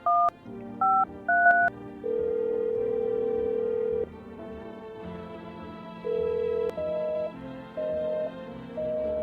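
Phone keypad dialing tones in a video game: a quick series of short beeps followed by longer sustained tones in an uneven rhythm, clear and prominent with no talking.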